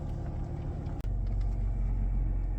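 A car engine fires up after a brief pause in a steady idle-like rumble, then settles into a deep, close, continuous engine drone with no voices.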